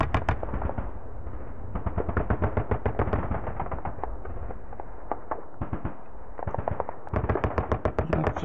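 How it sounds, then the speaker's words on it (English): Dense, rapid machine-gun and rifle fire crackles without pause in a World War II strategy game set in a 1940 invasion of England, with bursts overlapping and a few heavier booms mixed in, loud and continuous with no voices. "Lots of shooting everywhere."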